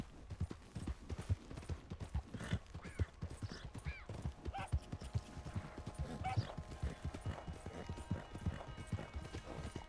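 Horse hooves gallop in a steady rhythmic clip-clop across the ground in the video game Red Dead Redemption 2, close and continuous, with occasional faint whinnies and game sounds around them.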